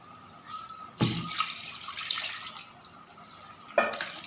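Meat is rinsed with turmeric in a kitchen sink, with running water splashing and swishing in a steady rush broken by two sharper sloshes, close and fairly loud with no talking.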